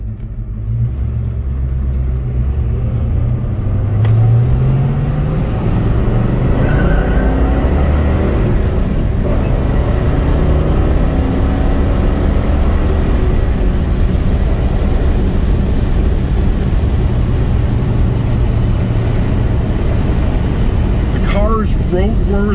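A 1971 Pontiac GTO Judge's engine runs steadily while the car drives, a loud continuous low rumble that rises and falls as it eases along, with someone talking over it.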